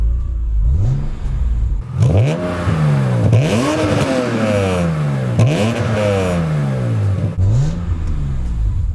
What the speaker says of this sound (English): Let's give it a little rev.